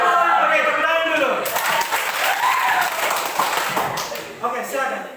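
Enthusiastic applause from a classroom of students, dense clapping throughout with some voices and cheers mixed in, loud and close.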